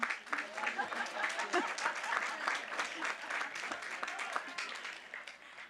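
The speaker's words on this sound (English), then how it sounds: "You can applaud." Steady applause from a large audience at a high school graduation ceremony, sustained clapping throughout with a dense, even texture.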